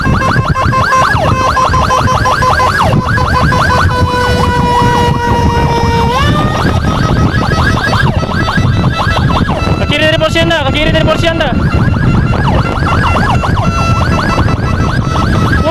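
An ambulance on an urgent run in Samarinda wails loudly and close, its siren sweeping and switching patterns continuously, while a voice speaks over it briefly.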